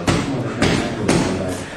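Three heavy, broadband thuds of power punches landing on a heavy bag, evenly spaced about half a second apart, close and loud with no talk.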